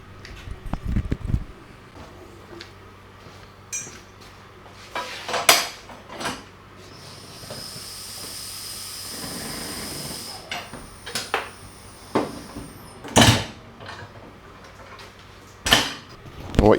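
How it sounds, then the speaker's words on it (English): A manual tire changer bolted to plywood breaks the bead on a Cub Cadet RZT-54 zero-turn mower tire. Close, sharp metallic clanks and thumps come at irregular intervals, with a steady hiss through the middle. "what you saw me do right there was a process called breaking the bead"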